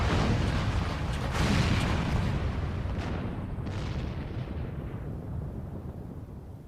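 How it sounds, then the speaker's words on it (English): A powerful cannon shot brings down a whole tower in the video game Final Fantasy XIV, a sustained, loud rumbling roar of explosion and collapsing debris that slowly fades, with no talk. "Strong ass cannon, though, to take down that whole tower with one shot."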